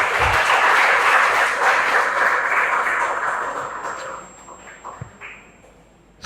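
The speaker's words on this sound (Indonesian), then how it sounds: "Tepuk tangan untuk para taruna dan taruni." Audience applause for maritime academy cadets at a merchant marine officers' seminar, a dense steady clatter of clapping that fades after about four seconds into a few scattered claps.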